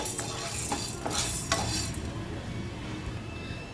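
Garlic roasting in a pan over a slow flame, a gentle continuous sizzle broken by several clear scrapes and clinks of a utensil stirring against the pan; no talking.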